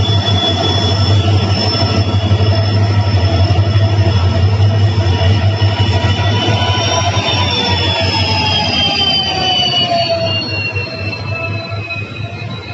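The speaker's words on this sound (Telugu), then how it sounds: "కాజీపేట దాదర్ ఎక్స్ప్రెస్ వచ్చేసి ప్లాట్ఫామ్ మీదకి వచ్చేస్తుంది." The Kazipet–Dadar Express rolls into the Karimnagar station platform. A loud, steady rumble carries long, high wheel squeals that glide downward as the train slows.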